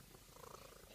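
A house cat purring softly and steadily up close, a continuous low rumble with faint background noise.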